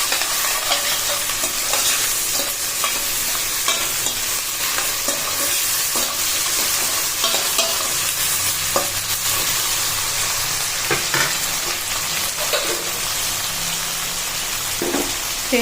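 Onions sautéing steadily in a pan for Nellore-style fish curry, a continuous close sizzle with frequent scraping stirs and small clinks, no voices.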